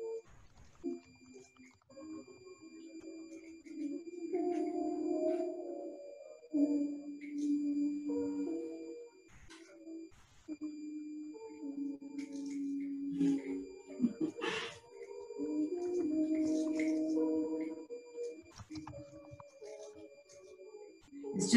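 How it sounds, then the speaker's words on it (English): Ambient humming inside a VR art installation, soft wavering tones rising and falling continuously with faint beeps and chirps at moderate level. "It can be relaxing to just hear this humming"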